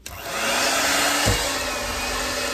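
An electric mixer beats oatmeal raisin cookie dough on medium speed, its motor whine starting abruptly and then holding loud and steady to the end, with no talking.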